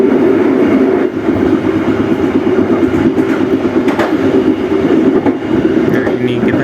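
Bengawan passenger train running on rails, a loud steady roar with rhythmic clickety-clack of wheels over track joints, heard from inside the moving carriage with faint voices beneath.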